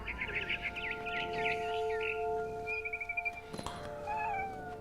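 A cat meows in the video game What Remains of Edith Finch, a few drawn-out mewing calls mixed with bird chirps and a steady tonal game ambience.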